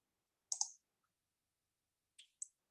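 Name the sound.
computer mouse clicking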